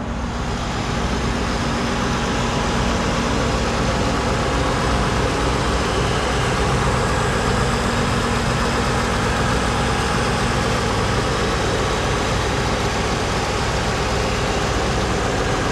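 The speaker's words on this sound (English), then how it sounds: "Let you listen to the engine here." A 1990 Cadillac Fleetwood Sixty Special's engine idles steadily and loudly the whole time, a continuous low rumble with no talking.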